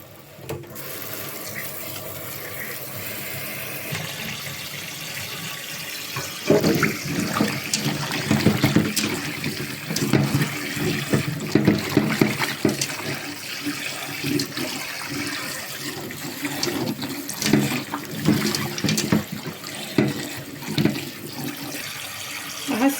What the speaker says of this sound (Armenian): Պոչերը կտրելուց հետո հիմա պետք է մի լավ լվանամ հոսող ջրի տակ։